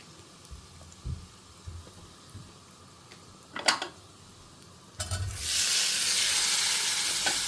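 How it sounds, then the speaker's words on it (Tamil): Baby potatoes hit a hot pan already used for drumstick flowers, with a few quiet clinks and stirring taps that give way to a loud, sustained sizzle as the roasting starts. "முருங்கைப்பூ பண்ண அதே பாத்திரத்துலேயே நம்ம உருளைக்கிழங்கு ரோஸ்ட் பண்ணிக்கலாம் பேபி உருளைக்கிழங்கு"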